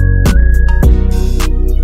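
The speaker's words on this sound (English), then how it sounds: "Then in the final drum pattern, sound like this." Final drum pattern of an R&B trap beat built in FL Studio: heavy sub-bass 808 hits with punchy kicks and crisp hi-hats, plus a sustained synth tone, loud and upfront with no voices.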